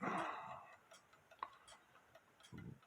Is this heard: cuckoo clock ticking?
yes